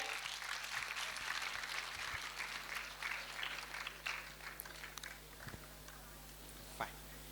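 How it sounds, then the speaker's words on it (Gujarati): Audience applause at a medical lecture during a conference, a faint, steady patter of clapping from a seated crowd heard from a distance, with some talk mixed in. "એના માટે જોરદાર તાળીઓ થઈ જાય"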